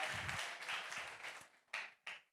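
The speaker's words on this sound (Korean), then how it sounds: "우리 짝꿍에게 좀 박수 좀 쳐주세요. 박수." A small audience at a lecture claps briefly for their seat partners, a short patter of hands that fades, followed by two quick bursts of a few claps.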